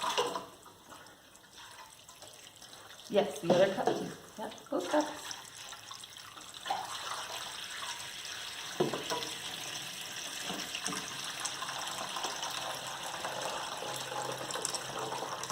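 Water poured from cups onto a wetland model splashes and trickles in a few bursts, followed by a steady, faint running flow, while children and an adult talk nearby.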